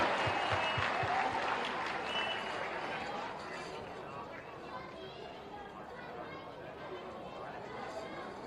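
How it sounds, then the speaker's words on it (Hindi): Audience at a school award event applauding, a dense burst of clapping that starts strongly and fades into crowd chatter and murmuring. "तालियां बजाएं एक बार जोरदार।"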